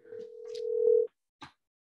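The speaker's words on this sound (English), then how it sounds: "it was a phone ringing here" A telephone rings during a live conversation event, one long steady electronic tone swelling louder for about a second, then a brief second burst after a pause.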